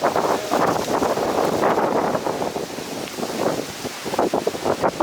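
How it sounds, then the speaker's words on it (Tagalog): Strong wind buffets the microphone in a steady, loud roar outdoors during a bike ride, gusting throughout with no clear voices. "Balik ang hangin ah."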